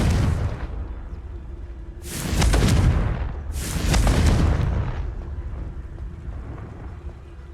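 Two heavy booming blasts from the Confringo fire spell in Hogwarts Legacy, each a loud deep burst with a rumbling tail, spaced about a second and a half apart over a low background hum.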